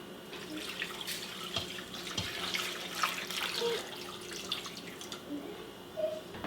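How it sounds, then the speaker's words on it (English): Filtered water poured over a beef pot roast in a slow cooker, a steady close splashing trickle with faint clinks, continuous throughout. "I just cover everything with filtered water"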